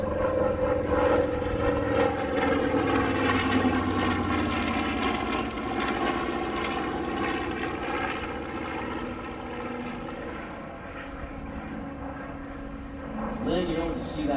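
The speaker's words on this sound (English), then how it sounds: "B-25, high over the skies here at Wings Over Columbus" A WWII-era B-25 bomber drones overhead at an air show, its piston engines a loud, sustained propeller roar that fades slightly and swells again, with an announcer talking over it.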